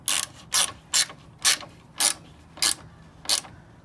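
A hand ratchet tightening bolts on a G37 radiator support during a G35 front end conversion, seven evenly spaced bursts of clicking close by, each short and crisp with quiet gaps between.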